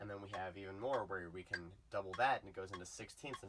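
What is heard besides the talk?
No everyday noise stands out behind the speech.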